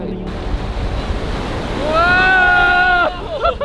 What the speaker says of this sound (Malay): Dia bawa ombak besar.